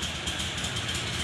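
Mitsubishi 4DR5 diesel engine for a flatboat running at a steady idle with a loose, clattering rattle layered over its continuous mechanical drone, close and moderately loud.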